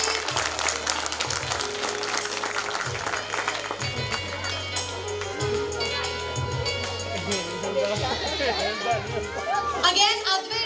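Clapping from an audience at a school annual function for a child on stage, sustained applause mixed with children's voices and chatter over a pulsing music beat, with someone talking throughout.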